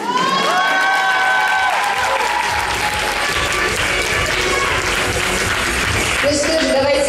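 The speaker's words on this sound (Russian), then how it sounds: "давайте еще раз громкими аплодисментами наградим наших участников" Loud, sustained applause from a large crowd at a Russian stage show, with some cheering and whistling mixed in throughout.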